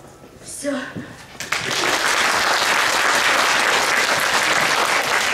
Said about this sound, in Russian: Мария Горлевская, ваши аплодисменты